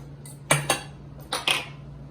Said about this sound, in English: After we put the eggs in the bowl, mash with fork.